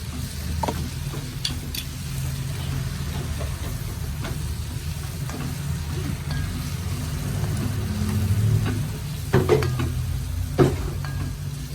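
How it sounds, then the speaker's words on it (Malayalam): Turmeric powder fries in a pan for squid masala, giving a steady low sizzling hiss close by, broken by a few sharp clinks and stirring scrapes near the end. "അര സ്പൂൺ മഞ്ഞൾപ്പൊടി ഇട്ടു ഇത് നന്നായിട്ട് ഒന്ന് മൂപ്പിച്ചെടുക്കാം"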